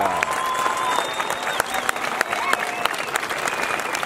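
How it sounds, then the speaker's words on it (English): A high school graduation crowd applauds military families, a thick, continuous roar of clapping with shouts and whistles rising above it and voices mixed in throughout. "Let's give everyone a round of applause."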